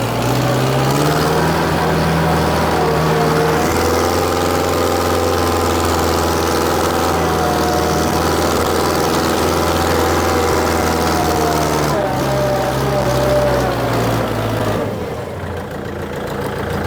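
A 2012 Kubota L4708DT tractor with a loud exhaust runs steadily at idle, a close, constant engine drone with a deep rumbling pulse that holds throughout and dips slightly near the end; no one speaks.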